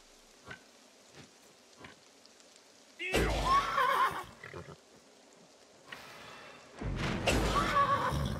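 A horse in the video game Wartales whinnies twice in loud bursts with hoof clops, while a voice talks faintly and quieter ticks sound between the calls.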